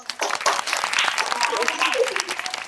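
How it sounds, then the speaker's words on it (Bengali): A classroom of students claps in a short, scattered burst of hand claps, close and fairly loud, while a teacher talks over it. "CRAZY এক্সিলেন্ট, হাততালি দাও"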